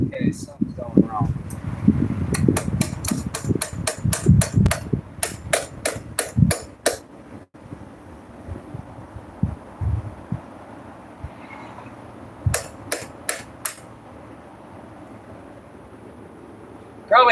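Blacksmith hammer blows at a forge, a quick run of sharp metallic strikes followed by a later short burst, over steady background rumble.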